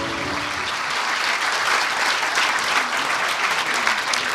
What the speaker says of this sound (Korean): 귀중한 말씀해 주신 대통령님께 다시 한번 뜨거운 박수